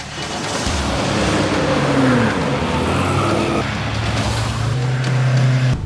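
A white Honda City speeds along a road, its loud engine roar steady and close throughout, swelling slightly as it passes, with no talk over it.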